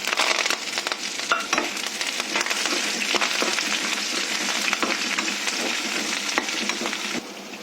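Whole spices, cinnamon and bay leaf with biryani masala, fry in hot oil, giving a steady, close, loud sizzle with faint stirring scrapes for about seven seconds, easing slightly near the end, with no talking.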